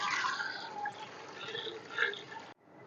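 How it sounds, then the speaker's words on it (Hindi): About a jug of water, some 1.5 litres, poured into a cooking pot of whole spices: a steady, close hissing splash of falling water that runs continuously and then stops abruptly, followed by quiet. "इसमें 1 जग पानी का शामिल करेंगे।"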